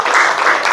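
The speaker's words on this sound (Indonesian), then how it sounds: "Oke, kita kasih tepuk tangan dulu" Brief burst of applause in a classroom, close and fairly loud, a quick dense patter of many hands lasting under a second.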